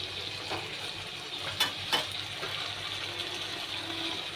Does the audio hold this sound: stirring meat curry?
yes